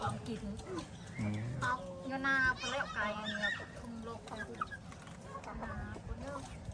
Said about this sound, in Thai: ไก่ตัวนี้งามงามเลยพี่น้องเอ้ยเนาะไก่พวก นี่แหละ